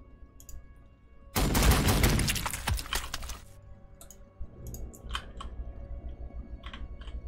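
Gunfire in the video game Warhammer 40k Sanctus Reach, a dense loud burst of rapid shots lasting about two seconds, followed by quieter scattered clicks and taps.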